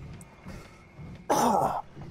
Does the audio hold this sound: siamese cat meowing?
no